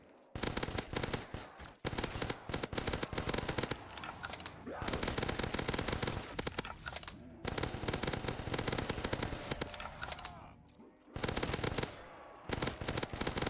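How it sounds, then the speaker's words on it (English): Rapid automatic gunfire roars in a zombie shooter game, long loud bursts broken by brief pauses between volleys, dense and continuous throughout. "This gun is going through ammo like crazy, which is totally fine because we have the FAL"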